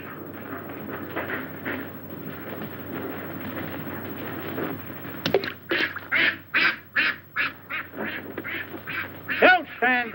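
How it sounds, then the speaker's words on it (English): Ducks quack in a rapid series of nasal calls, fairly close and loud, following a stretch of people talking in a 1932 comedy short film; the calls come in clustered bursts. "Look at those old ducks."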